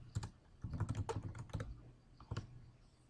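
Fingers typing on a computer keyboard while logging in to a school application portal, with bursts of quick clicking keystrokes close by, alone without talk.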